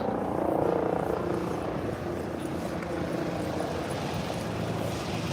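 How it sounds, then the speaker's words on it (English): A helicopter approaching over the waterfront at Brooklyn Bridge Park in New York City makes a steady low rotor thrum and engine drone, moderately loud and continuous, with faint city ambience. "Oh, helicopters coming in."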